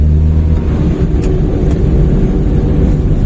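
A Maruti 800 car engine accelerates in third gear while overtaking on a wet rainy-season road, a steady loud low drone with rumbling road noise throughout and no voices.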